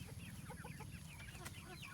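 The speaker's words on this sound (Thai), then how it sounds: "นี่ไก่ป่าออกนี่ครับ" Jungle fowl and hybrid chickens cluck softly in a morning yard, a scatter of short calls over a steady low outdoor background, faint and at some distance, with no voices.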